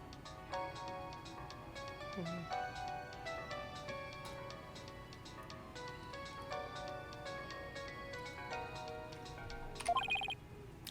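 A phone ringtone plays a bright, repeating electronic melody in Apollo Justice: Ace Attorney, fairly quiet and steady over a soft background, ending with a brief burst of sharper tones near the close.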